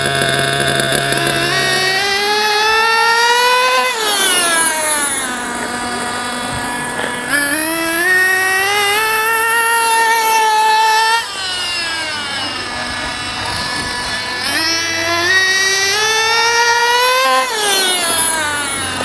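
A nitro engine in a JQ Products THERTR RC car runs during break-in, its high-pitched buzzing whine rising and falling over several slow throttle rolls, loud and continuous with no talk.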